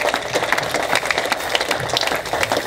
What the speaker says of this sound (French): Est-ce que vous pouvez applaudir très fort notre Dieu bien-aimé?